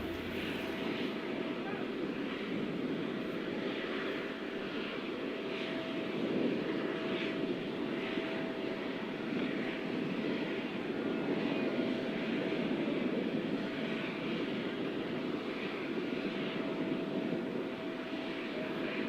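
Airplane engines on the Prime Minister of India's aircraft hum and whine steadily after landing at an official arrival ceremony, a continuous drone with people talking over it.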